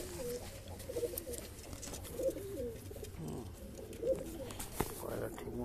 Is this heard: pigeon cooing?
yes